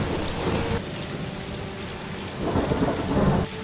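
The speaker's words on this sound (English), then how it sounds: "Rain poured without stopping." Heavy rain pouring with rolling thunder, dense hissing downpour and deep rumbles swelling at the start and again near the end.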